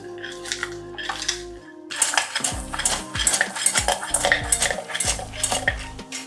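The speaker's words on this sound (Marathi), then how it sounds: "आपलं खोबरं भाजून घेते" Dry grated coconut being roasted in a pan for laddoos: a metal spoon scrapes and clinks repeatedly against the pan in an uneven stirring rhythm, close and fairly loud.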